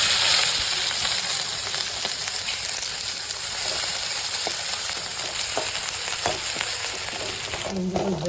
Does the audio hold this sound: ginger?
yes